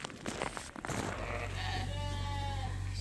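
A Suffolk sheep bleats nearby in snow, a wavering drawn-out call following some brief rustling and a low voice at the start.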